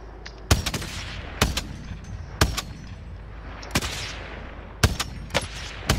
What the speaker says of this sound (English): It's like someone's shooting at it.